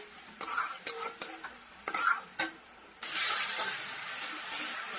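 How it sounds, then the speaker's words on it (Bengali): A masala of fried onion, tomato, whole cumin and ginger paste gets stirred in a pan, a few sharp spoon scrapes and clinks, then a loud, steady sizzle takes over as it fries. "এখানে আমি আলুটা দিয়ে মশলাটার সঙ্গে ভালো করে কষিয়ে নিচ্ছি।"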